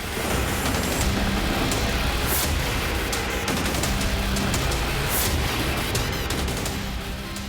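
Dense, continuous rumbling with repeated sharp cracks and blasts from multiple explosions at Beirut airport, loud and constant, like heavy bombardment heard at a distance.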